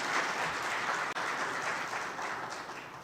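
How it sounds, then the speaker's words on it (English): Audience at an elimination-of-mother-to-child-transmission certification ceremony in the Turks and Caicos Islands gives a round of applause, steady moderate clapping that tapers off slightly toward the end. "I'd like to give us a round of applause."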